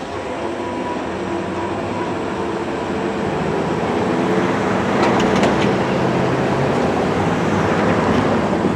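A CN M385 freight train rolls past steadily, a dense continuous rumble and rail roar that swells slightly midway with some faint metallic clanks, no voices.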